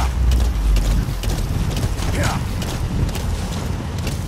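A horse gallops in the Metal Gear Solid 5 video game, loud rhythmic hoofbeats running continuously with a brief whinny-like tone partway through and game background noise underneath.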